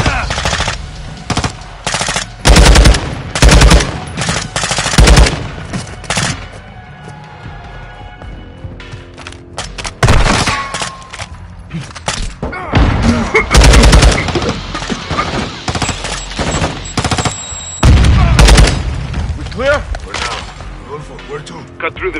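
Turret machine gun in the Modern Warfare II campaign firing loud, sustained bursts amid other gunfire and explosions, with quieter pauses in between.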